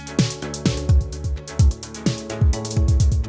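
A VST synth patch in Cubase plays a punchy rhythmic pattern of pitched bass hits with falling pitch sweeps over sustained tones and bright percussive ticks, loud and alone.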